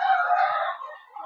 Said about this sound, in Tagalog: medyo maingay yung mga manok, kasi nandito tayo sa manukan